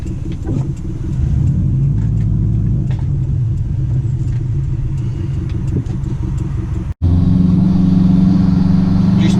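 A 2006 Subaru Forester's engine and road noise rumble steadily from inside the car as the throttle rises and falls, with a brief cut near the end before the drone returns louder.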